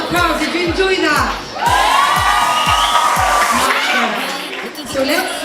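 An audience at the Miss Glamour 2019 beauty pageant cheers, whoops and shrieks loudly, with thumping music beats underneath and a brief dip before the crowd surges again.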